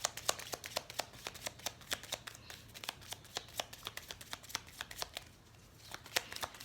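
Tarot cards being shuffled and drawn by hand, a rapid series of crisp flicking and slapping card sounds in quick rhythm, close and fairly quiet, with a faint low hum underneath and a brief pause near the end.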